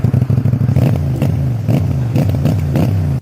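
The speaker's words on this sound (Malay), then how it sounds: "Bunyi deruman exhaust yang lunak bukanlah satu-satunya selling point untuk motosikal ini." A CFMOTO 450 NK, a 450cc DOHC parallel-twin motorcycle with a 270-degree crank, burbles through its exhaust at close range with an uneven, throbbing idle pulse and a few quick blips of revs, without any speech.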